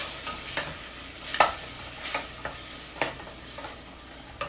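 Kimchi soup cooking in a pot, with a spoon stirring and clinking against it several times over a quiet sizzle and simmer, close and moderately soft.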